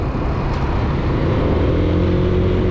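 A 2017 Yamaha NMAX 155 scooter rides along a city road, its steady engine drone and road rumble holding constant and close throughout, with no talk.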